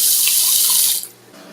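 A sink tap runs hard, filling a turkey brining bath with cold water, a loud steady splashing rush that drops to a quieter trickle near the end.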